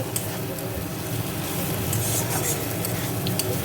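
Spiced jackfruit curry mixture is stirred in an oily pan, a steady scraping and soft sizzle running continuously and close throughout.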